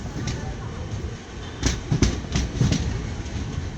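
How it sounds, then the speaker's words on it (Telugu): The MGR Chennai superfast express (12163) pulls into Kadapa station, a steady rumble with rhythmic wheel clacks and a few sharp rail knocks, with a voice talking over it. "కడపకు మన ట్రైన్ ఆన్ టైంకే వచ్చేసింది"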